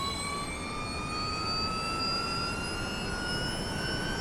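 Electric Porsche Mission R motor in the iRacing simulator, a steady high-pitched whine with rising tonal harmonics over a constant rushing drone, held continuously and loud throughout.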